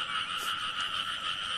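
Caught frogs croak in a steady, continuous chorus, close and moderately loud, with no voices over them.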